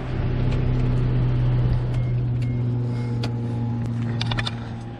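Idling engine of a Toyota Starlet EP82, running steadily with a low, constant hum and faint higher tones throughout, close and unbroken, with a few small clicks near the end.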